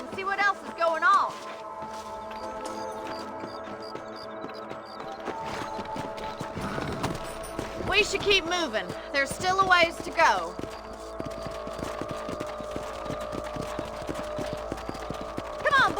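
Horse hooves clip-clop at a steady riding pace in the Red Dead Redemption video game, with a rider's voice talking over them, occasional louder rustles and a faint whinny.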